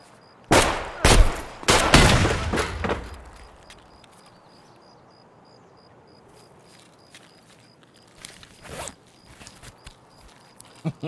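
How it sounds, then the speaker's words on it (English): Gunfire in the shooter game Escape from Tarkov: a rapid burst of loud, close shots early on, then a quieter stretch with a few distant cracks and faint movement. "He's shooting at me"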